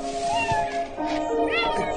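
A pet cat meows repeatedly at close range, drawn-out tonal cries rising and falling over a soft background with faint voices.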